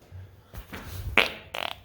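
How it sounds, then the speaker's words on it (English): A fart sounds indoors in a few short bursts, a low rumble followed by a sharp squeak and a final sputtering trill, close and fairly loud with no talking. "That fart represents this entire deal."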